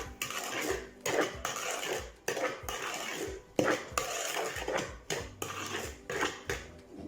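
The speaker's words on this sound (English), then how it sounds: "I'm just going to stir that round with a metal spoon until all the sugar is mixed in" Metal spoon scraping and clinking around a bowl while a sugar mixture is stirred, a steady run of close, irregular taps and scrapes repeating every second or so.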